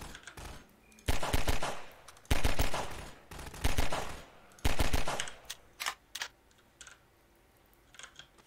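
Enemies fire at the player in Half-Life 2 around a canal and factory, with rapid automatic bursts rattling in clusters. Loud volleys early on give way to scattered, fainter shots.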